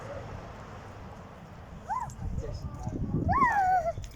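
A dog gives a few high, thin whimpers over a low background rumble, with brief muffled talk nearby.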